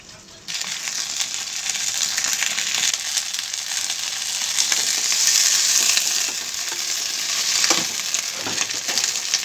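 Sesame seeds, coriander, curry leaves and green chilies frying in hot oil give a steady, close, loud sizzle with crackling pops, starting abruptly and holding without any talk.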